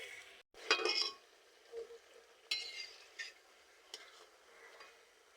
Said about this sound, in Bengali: তেল গরম হয়ে গেছে। এবার আমি তেলে এক এক করে দিয়ে দেবো।